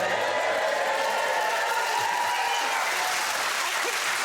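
A studio audience at a comedy panel show claps steadily, a loud, dense wash of applause from a crowd that holds at full strength for several seconds without letup.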